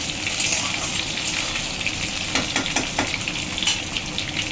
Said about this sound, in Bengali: তো আলুটা আমি ভেজে নিচ্ছি